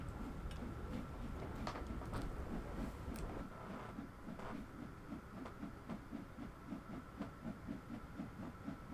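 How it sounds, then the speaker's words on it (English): A train in Train Sim World 2 rolls past another locomotive, with rhythmic clickety-clack of wheels over rail joints and a low rumble at moderate level, no talk. "Passing the other locomotive there."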